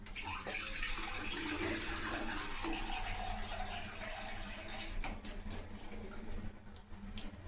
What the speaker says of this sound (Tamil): மிக்ஸி எல்லாம் அரைச்செல்லாம் 2 ஜாரில் அதெல்லாம் கழுவி தண்ணி சேர்த்துக்கலாங்க.